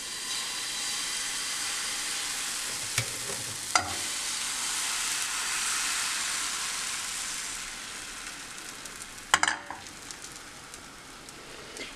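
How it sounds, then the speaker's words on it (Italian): Crepe batter sizzling in butter in a hot non-stick pan, a continuous bright frying hiss with a few sharp clicks and scrapes of a utensil. "abbiamo versato un po' del nostro impasto dentro la pentola antiaderente dopo averla fatta riscaldare"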